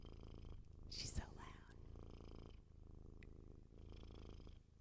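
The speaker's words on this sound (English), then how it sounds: "She purrs so loud." A cat named Gimmick purring loudly, a steady rumbling purr close to the microphone with a brief sharp noise near the start, while people talk quietly over it.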